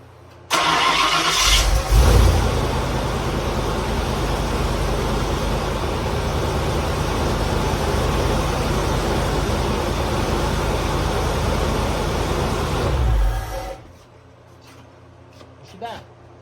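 A 1993 Ford Mustang GT cranks briefly, then fires and idles roughly at a steady loud level for about eleven seconds before shutting off, leaving quiet with a faint knock afterward.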